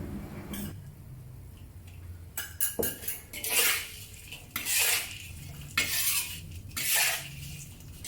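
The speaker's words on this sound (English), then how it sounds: "Then mix well with the tofu." Tofu tossed in a wok with chopped red chili and spring onion rings for salt and pepper tofu: scraping spatula strokes and metallic clinks over a soft, continuous sizzle, in rhythmic bursts.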